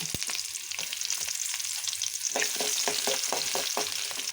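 Chopped shallots frying in hot coconut oil with popping mustard seeds for a white chickpea curry: a close, steady sizzle punctuated by repeated scraping stirs and sharp little crackles, with no talk.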